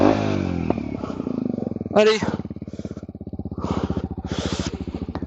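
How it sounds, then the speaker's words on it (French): A small Kawasaki Z125 motorcycle engine runs nearby with a steady rapid putter, its pitch rising briefly in short revs. A voice speaks over it at the start. "je vais vous faire écouter le petit moteur."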